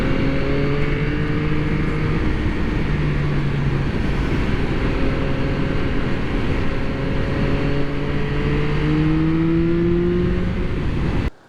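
A 2023 Yamaha MT-09 SP's inline three-cylinder engine runs loud and steady with rising and falling revs, a continuous close growl with sliding harmonic tones until it cuts off abruptly at the end.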